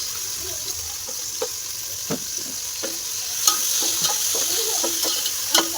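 Chopped onion and three tomatoes fry in a pan with a soft, continuous sizzle, broken by scattered clinks and scrapes of stirring close by, with no voices.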